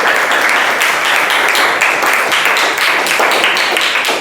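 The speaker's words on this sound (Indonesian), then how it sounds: "Iya, tepuk tangan dulu." Classroom applause from a group of students, a dense burst of hand clapping that is loud and steady for about four seconds with no talk over it.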